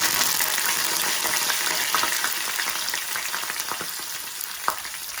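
Hot oil sizzles and crackles steadily as curry leaves fry, with small pops scattered throughout and one sharper pop near the end.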